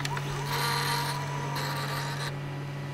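Festool CONTURO K65 mobile edge bander feeding edging through its feed mechanism, a steady low mechanical hum with clicking and whirring bursts, fairly close and continuous with no talk.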